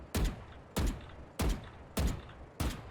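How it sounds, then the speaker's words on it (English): Five single gunshots fired one at a time in Valorant, each a sharp punchy crack with a short tail, evenly spaced at a steady tapping rhythm over faint background hum. "Tapping, which is shooting one bullet at a time."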